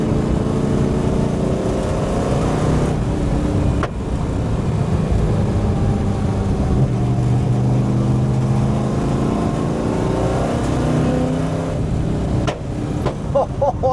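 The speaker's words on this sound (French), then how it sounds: "du coup, là, c'est bon, j'entends que c'est bien l'échappement." Exhaust of a 1965 Ford Mustang fastback, a steady loud engine drone with rumbling harmonics that rise and fall slightly, running continuously close by with a few sharp transients near the end.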